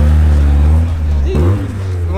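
Vintage BMW E30 cars rolling past at a car meet in Los Angeles, a loud close engine drone that shifts pitch as one passes, with crowd chatter and voices around.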